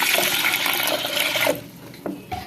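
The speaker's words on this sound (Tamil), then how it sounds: "தண்ணி ஊற்றிடலாம்" Water pours from a vessel into a pressure cooker holding washed moong dal, a steady splashing gush lasting over a second before stopping, followed by a couple of light clinks.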